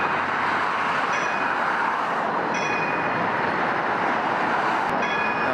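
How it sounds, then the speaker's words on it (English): An O-Train light rail train moves through Confederation station heading south, a loud, steady rumble and rolling rail roar with faint high squeals and tones, continuous and close. "Comes the train. Heading south towards Greenboro,"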